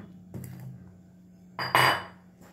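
Ice cubes dropping into milk for a fruit shake, one short clink and then a louder tumbling clatter of ice hitting the container, close and clear against near-silence.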